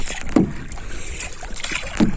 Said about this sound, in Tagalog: Nagsasagwan sa malaking bangka